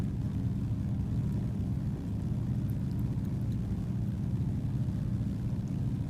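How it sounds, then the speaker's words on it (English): A steady, droning engine of a de Havilland DHC-2 Beaver in a flight simulator game hums continuously at an even level, low and rumbling, with no other sounds. "let me turn my engine sounds down a little bit"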